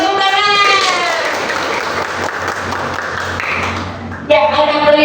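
Students in a classroom clap together in a dense, lively burst lasting several seconds, with a voice heard briefly before and after the clapping.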